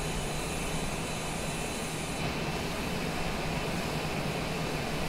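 Cessna Citation Longitude jet cruising in Microsoft Flight Simulator, an even continuous roar and hiss of the engines that holds steady, with a faint high tone fading partway through.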